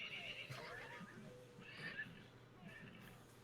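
A played sound effect of a horse rearing back on its hind legs gives a faint, drawn-out whinny in a couple of high bursts over a low background hum, with talk mixed in.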